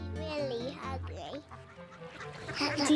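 Ducks being fed bread crumbs quack and honk in a few close, nasal calls, mixed with a voice and some background chatter.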